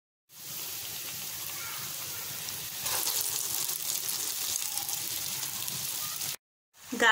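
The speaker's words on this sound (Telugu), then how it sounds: "గారెలు వేగుతున్నాయి కదండి" Garelu, lentil vadas made from batter, fry in hot oil with a steady, loud sizzle and bubbling that runs continuously for about six seconds before cutting off abruptly.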